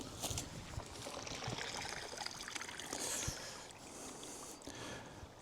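Pond water trickles and seeps steadily through an open sand filter after the pump is switched off, a soft, continuous wash of running water heard up close with no voices.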